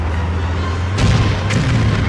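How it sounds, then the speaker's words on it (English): A video-game explosion in the PS2 stunt-driving game Stuntman, set against a steady low engine drone: a broad boom lands at about one second, a second burst follows half a second later, and the rumble carries on loudly to the end. "Explosion."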